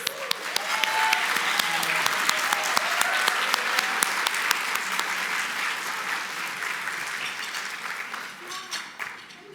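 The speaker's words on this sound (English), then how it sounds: "Please give him a round of applause." A luncheon audience at a volunteer recognition event applauds a volunteer: sustained, dense clapping fills the room for about eight seconds, then gradually thins and fades near the end.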